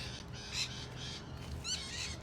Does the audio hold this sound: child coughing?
no